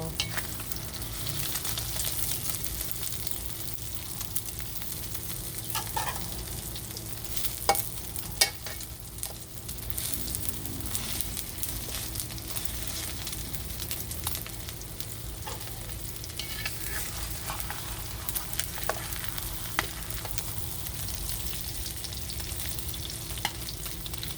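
A Thai omelette (khai jiao) fries in hot oil with a loud, continuous crackling sizzle close by and occasional utensil scrapes and taps, no one talking.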